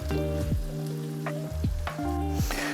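Crackling sizzle of grated tomato frying in a pan, with a spoon scraping and stirring through it in short repeated strokes.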